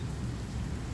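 Rain from a thunderstorm falling steadily, a brief, even hiss and low rumble of drops on surfaces with nothing else standing out.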